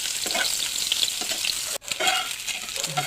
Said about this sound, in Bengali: এবার এটা গরম তেলে ভেজে নেব, হালকা একটু ভেজে নেব।